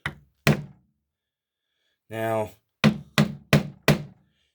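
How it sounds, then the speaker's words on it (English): Heavy hammer blows strike a metal leather stamping tool into leather: two sharp knocks, a brief rasp, then four evenly spaced solid hits, close and loud, with a short spoken word. "we're going to take the big hammer."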